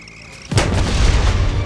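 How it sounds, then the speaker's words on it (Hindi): A large explosion set off in a lava-versus-lasers destruction test erupts suddenly as a loud, deep boom, then rolls on as a sustained low rumble with no talking. "लेकिन बॉब ने सबकी भरपाई की एक बड़े से धमाके के साथ।"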